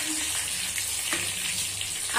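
Garlic roasting lightly in a pan for paneer ghotala, giving a soft continuous sizzle with faint stirring scrapes throughout.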